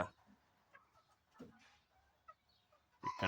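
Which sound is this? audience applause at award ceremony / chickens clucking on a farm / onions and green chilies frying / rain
chickens clucking on a farm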